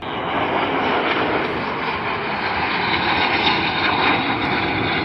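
A-10 jet aircraft flying past at an air show, a loud steady whooshing jet roar that holds for several seconds without talk.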